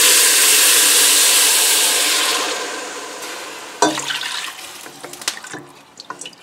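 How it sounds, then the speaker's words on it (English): Apple cider poured into a pot with bacon for a cider stew, a loud steady liquid rush that tapers off, then faint sizzling and clinks in the pot. "there's our apple cider added to that bacon"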